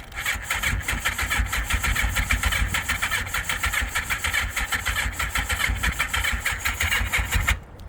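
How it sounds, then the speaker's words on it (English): A Honda Nighthawk 700S motorcycle engine cranking and catching, running with a rapid, steady, loud mechanical pulse for several seconds before cutting off abruptly at the end. "I don't know if the battery will start it."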